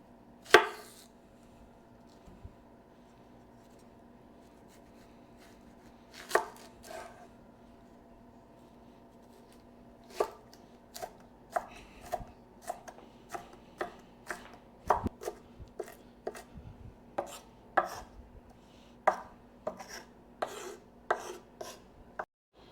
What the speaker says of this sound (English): let's chop up this onion real quick